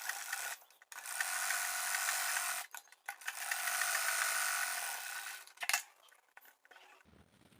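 A sewing machine stitches the elastic casing of a cotton baby dress, running in bursts of rapid mechanical whirring separated by short pauses and small clicks, close and fairly quiet with no talking.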